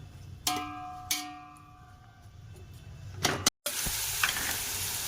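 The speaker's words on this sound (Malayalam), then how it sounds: "ആ പരുവത്തിനെ നമ്മളിത് വാട്ടിയെടുക്കാവും. ഉള്ളി ഇതൊന്നും വഴന്ന് വരട്ടെ." Onion and beans sauté quietly in a pan with a soft sizzle, and a few metal utensil clinks ring out before the hiss grows steadier.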